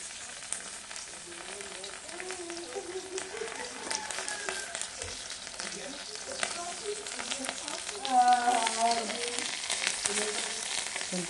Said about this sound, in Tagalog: magluto naman din ako ng buwad guys. Ay tuyo, pares.